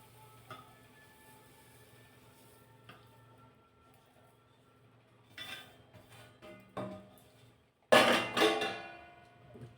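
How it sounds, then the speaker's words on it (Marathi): Leftover sesame seeds for til-gul being moved into a mixer grinder jar: a few quiet clinks and scrapes, then a loud, rattling pour of seeds near the end. "हे या मिक्सरच्या भांड्यामध्ये काढून घेते"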